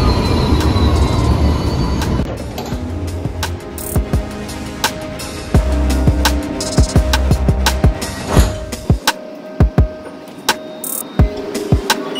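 A Sydney light rail tram pulls in with a loud, close rumble of wheels on track, repeated metallic clanks and squeals, and sharp rhythmic clacks as it slows, the rumble dropping away near the end.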